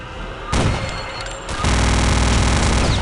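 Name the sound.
gunfire in the video game Return to Castle Wolfenstein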